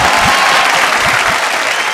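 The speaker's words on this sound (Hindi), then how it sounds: "जोरदार ताली के साथ स्वागत कही जाओ ऑडियंस के" An audience at a Bhojpuri singing reality show applauding to welcome a singer, a dense, loud, steady burst of clapping from a crowd filling the whole moment.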